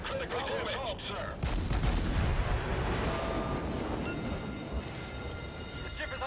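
Naval gunfire and explosions from the World of Warships game with the destroyer Novik, a dense, loud, continuous rumble of heavy blasts and crackling under a steady din, with speech mixed in throughout.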